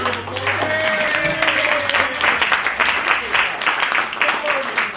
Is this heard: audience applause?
yes